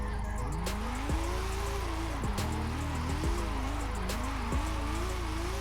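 Nissan R34 GTR drifting in Forza Horizon 5, its engine note climbing and wavering with throttle changes and dropping sharply at gear shifts, with tire squeal underneath, heard steady and close throughout.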